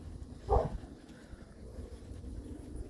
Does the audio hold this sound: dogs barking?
yes